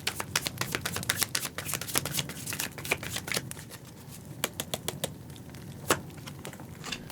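Tarot cards being shuffled, a brisk close riffle of rapid papery flicks and snaps continuing steadily for several seconds.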